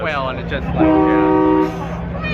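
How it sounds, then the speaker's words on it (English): A loud train horn fitted to a Lamborghini Aventador at a car show blares in a sustained tone for about a second, with a person talking over and around it. "That's a train horn."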